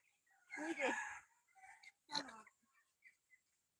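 Domestic chickens cluck nearby in two main bursts followed by a few softer, shorter calls, with quiet gaps between them.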